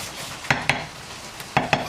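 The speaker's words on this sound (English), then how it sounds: "I'm just going to carry on sizzling that for a good 3 minutes." Peppers and chicken curry in a pan on high heat give a soft sizzle under a few sharp clinks and scrapes of a utensil stirring against the pan, close by, no voices.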